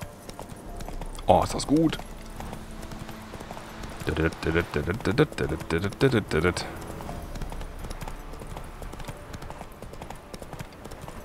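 Horse hooves clip-clop at a steady rhythm while riding in The Witcher 3, moderately loud and mixed with game ambience, with someone speaking German over the riding.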